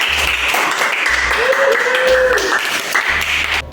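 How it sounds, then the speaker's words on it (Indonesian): Primary school pupils in a classroom clap for their classmates, a busy rhythmic patter under a steady murmur of children's voices, with a sustained vocal tone partway through. "Yuk kasih tepuk tangan buat teman-temannya."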